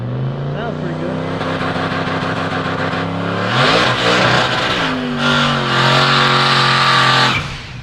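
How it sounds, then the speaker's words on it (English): A truck does a burnout at a no prep drag race, its engine roaring loud and steady, then surging into harsh screeching bursts of tire spin before cutting off, with voices talking over it. "that's way better burnout than he did earlier"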